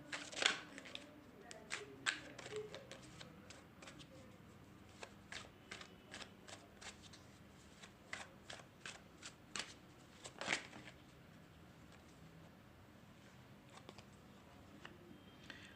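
Tarot cards are shuffled close by, giving many quick, light riffling clicks and taps in irregular bursts. The sound is faint to moderate over a quiet background with no talking.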